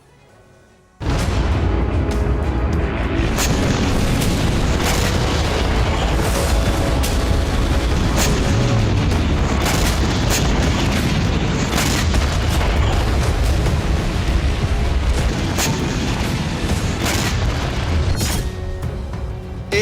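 Russian artillery guns fire toward Ukraine in a dense, continuous roar of loud booming blasts and rumbling that starts abruptly and carries on without pause, with no voices.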